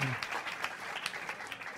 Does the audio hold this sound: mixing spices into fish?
no